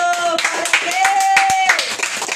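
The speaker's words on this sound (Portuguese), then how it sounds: "Vamos aplaudir ao Senhor." A church congregation claps during a worship service, steady rhythmic claps mixed with voices and sustained tones, loud and close.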